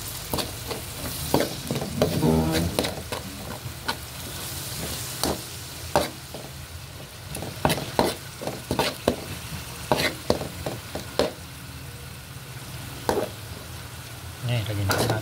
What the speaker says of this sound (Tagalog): lagay na rin natin itong ating alamang para magisa na po siya